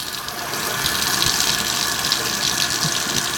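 Tap water runs steadily into a sink while a set of stand mixer paddles is rinsed clean, a continuous close gushing wash with no talking over it.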